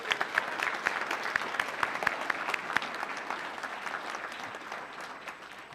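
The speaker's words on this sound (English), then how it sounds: "can we give a round of applause for all the wonderful parents here?" An audience at a community athletics awards ceremony applauds parents, giving a sustained, even wash of many hands clapping that holds steady for several seconds and then eases slightly, with no voices on top.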